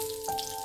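Pieces of pointed gourd (potol) fry in oil in a pan, giving a brief, steady sizzle with a faint constant hum behind it.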